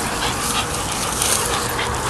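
A dog barking and whimpering during a swim outing, dense broadband noise with splashing water or wind throughout, the animal sounds mixed in continuously and fairly loud.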